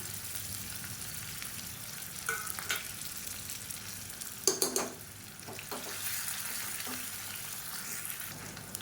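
Shallots and garlic cloves frying in oil in a pan for a kuzhambu, a steady close sizzle broken by a few sharp stirring scrapes and clacks midway, with no talking.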